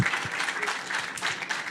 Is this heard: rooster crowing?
no